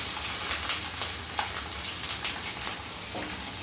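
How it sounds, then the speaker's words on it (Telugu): Green chilies, ginger and onions fry on high flame for a carrot-cabbage veg Manchurian, a close, steady sizzle broken by a few stirring clinks, with no voices. "కలుపుకున్నాక కొంచెం ఇదంతా హై ఫ్లేమ్ మీదే వేయించుకోవాలండి"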